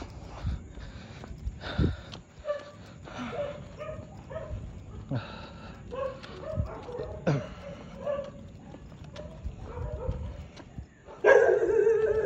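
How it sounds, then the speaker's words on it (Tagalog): A dog barks and yips intermittently in the distance, with scuffling and snorting noises and some outdoor background sound. "May aso dito."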